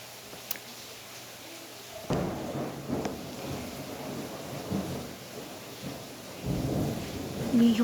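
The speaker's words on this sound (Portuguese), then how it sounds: "Olha aqui o trovão." Thunder in a heavy rainstorm, deep rolling rumbles arriving at about two seconds and again near six and a half seconds, loud and close over steady rain.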